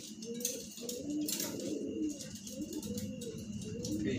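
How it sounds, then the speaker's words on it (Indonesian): A pigeon coos softly in a series of repeated low, rolling calls over faint background noise. "Ini penampakan burungnya."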